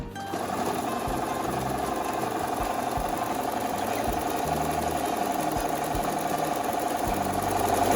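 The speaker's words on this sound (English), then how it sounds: "take it back to the sewing machine and reset it to straight stitch and stitch it all the way down." A sewing machine straight-stitches a fabric face mask, running at a steady, fast, continuous hum with an even mechanical clatter throughout, close and alone with no talk.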